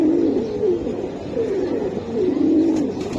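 Giribaz pigeons coo in a steady, rolling series of low, throaty calls, close and fairly loud, repeating in waves for a few seconds with no voices.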